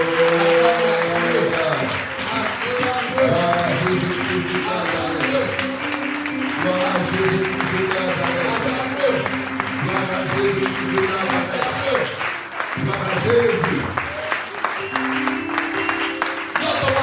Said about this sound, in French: lève-toi et acclame celui qui mérite toute la gloire